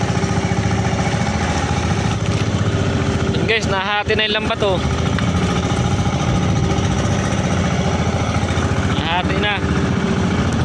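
Fishing boat engine running slowly at sea, a steady, loud, rhythmic putter that continues throughout while someone speaks over it.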